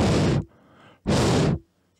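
A person imitates heavy breathing straight into a microphone: two loud, close, breathy exhales, each about half a second long, with a short quiet pause between them.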